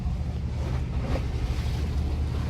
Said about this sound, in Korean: 여기는 배가 많이 다녀서 아침에 보니까 배소리들이 시끌시끌해요